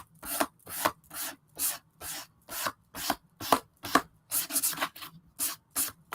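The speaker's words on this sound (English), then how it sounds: "you can use sandpaper or an emery board" A book's edge, hanging off a table, is rubbed with sandpaper or an emery board in a series of about fourteen quick, rhythmic scraping strokes, close and distinct with short gaps between them.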